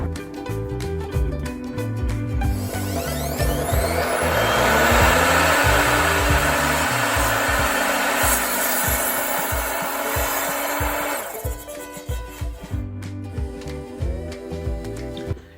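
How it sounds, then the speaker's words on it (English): A power saw whines steadily as it bites through a wooden base for a 40-centimeter cut, loud and close, then winds down with rattling and knocking. "I've decided to cut the base at 40 centimeters length."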